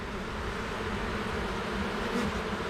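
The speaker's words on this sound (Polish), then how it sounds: "Ogólnie widzimy ile jest pszczoły" Honeybees in an open hive drone in a thick, steady buzz during an inspection, close and continuous without a break, and nobody speaks over it.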